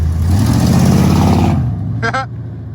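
A car pulls off and accelerates away, a steady loud engine drone that fades after about a second and a half, with a brief horn-like tone near the end.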